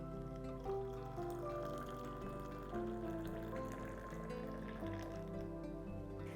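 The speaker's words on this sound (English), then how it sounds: "Let's pour it in this jug." Boiled milk with a light froth on top being poured into a jug, a faint, continuous liquid trickle over a low hum in a home kitchen.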